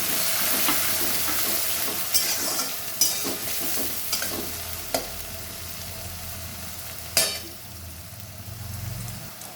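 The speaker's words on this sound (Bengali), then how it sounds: "পেঁয়াজটা হালকা ভাজা হয়েছে, একটা টমেটো দিয়ে দিলাম, কুচানো টমেটো" Chopped tomato sizzles in a pan with lightly fried grated onions for an egg dalcha, a steady hiss of frying broken by a few scraping stirs of a spoon.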